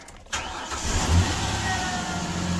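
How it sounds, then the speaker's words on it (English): A Ford Ranger pickup truck's engine catches and settles into a steady, slightly high idle, a continuous low mechanical hum with a mild swell early on and no talking. "Idle's a little high."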